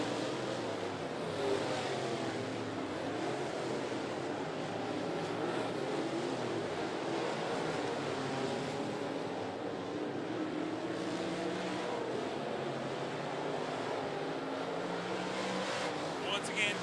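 Late model race cars roar around 411 Motor Speedway in a dense, steady engine drone that rises and falls as the pack passes, with a race announcer talking over it.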